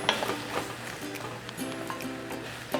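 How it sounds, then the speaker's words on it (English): Ratatouille vegetables sauté in a pan with a soft, moderate sizzle, joined by light scraping and stirring knocks and a faint background hum. "So let these get happy, sauteing off a little"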